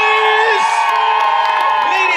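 A crowd at an evening limbo competition in Mexico cheers and whoops loudly and continuously for a woman contestant, with shrill voices rising above the steady roar.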